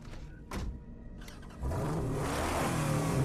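A car engine in the video game Mad Max revs up with a rising, gritty roar after a couple of short mechanical clunks, growing louder and steady toward the end.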